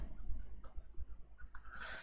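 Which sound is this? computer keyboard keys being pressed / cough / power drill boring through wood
computer keyboard keys being pressed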